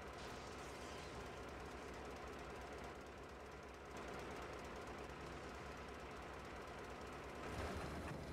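In the video game Metro Exodus, an engine rumbles and knocks steadily at a low, dense level, with a continuous mechanical churn that swells slightly toward the end.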